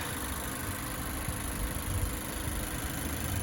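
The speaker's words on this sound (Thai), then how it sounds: "ฟังเสียงเครื่องนะฮะดู เครื่องยนต์กันหน่อยนะครับนี่" A 2019 Mazda2 Skyactiv 1.3 car engine idles with a steady, low, continuous rumble and hum, close up and unchanging, with no voices.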